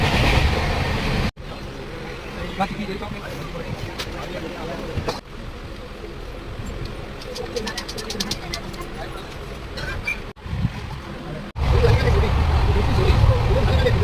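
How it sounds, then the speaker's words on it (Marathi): A passenger train runs after leaving Thane station, with a continuous loud rumble and clatter of wheels on rails, rising and dropping sharply as the carriage passes through sections, with faint chatter inside the coach. "फायनली ट्रेन सुटली ठाण्यावरून"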